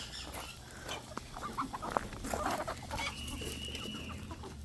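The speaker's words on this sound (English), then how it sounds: "Now we're gonna go take some goodies to our chickens." Hens clucking close by in a backyard coop while potato peels are tossed to them, scattered short clucks and squawks over a soft outdoor background.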